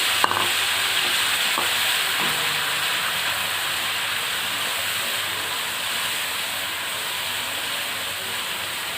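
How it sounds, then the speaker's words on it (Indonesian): Ground shallots and garlic sautéing in hot oil, a steady close hiss and sizzle that holds evenly throughout with a brief clatter near the start, no talking over it. "Sekarang saya akan tumis bawang merah sama bawang putih yang sudah saya haluskan"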